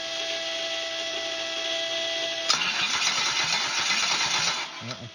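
A 6LDBW engine that has run out of fuel cranks on a start attempt, a rapid rhythmic chugging that begins abruptly partway in and continues for a few seconds without catching, close and fairly loud.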